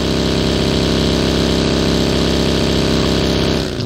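A vehicle engine in PUBG drones steadily and loudly, a dense continuous mid-pitched hum that holds evenly and then drops away at the very end, with no talking.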